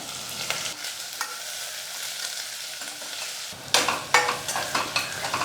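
Onions with curry leaves frying and being stirred in a pan for a vegetarian salna, a steady soft sizzle with sharper bursts of scraping and stirring toward the end, close and moderately loud with no talking.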